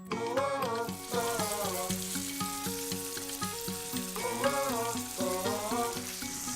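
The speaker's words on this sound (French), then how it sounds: "Je vais commencer à mettre en cuisson la viande pour les adultes." Lamb sears in a hot pan, a quiet steady sizzle sitting under background music that carries on throughout.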